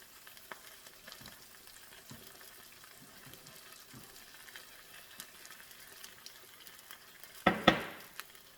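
Food cooking on a homemade DIY stove, a soft, faint steady sizzle with scattered small crackles and stirring, ending in a louder hiss and clatter near the end; no speech.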